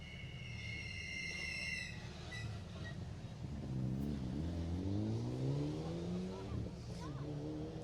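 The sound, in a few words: rally car, car 38 Mitsubishi Evo, at Jersey Rally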